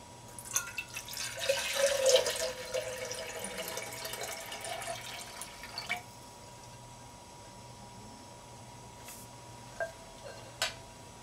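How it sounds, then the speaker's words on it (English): Water from a container pours into a JetBoil Flash cooking cup, a soft splashing flow for several seconds up close, followed by a quiet pause and a few small ticks and drips. "Fill it up with 2 cups of water that I already have pre-measured."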